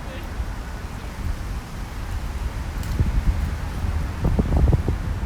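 Gusty wind roars in low, rumbling buffets against the microphone, growing stronger toward the end, with faint rustling throughout.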